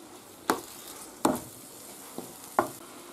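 Monkfish frying in a pan for a Gandia-style fideuà, a soft sizzle beneath four sharp scrapes of a utensil against the pan at uneven intervals.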